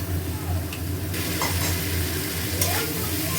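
Food sizzles steadily in a hot pan while being stir-fried with potatoes in a home kitchen, a loud continuous hiss with occasional scraping strokes of a spatula and no talking.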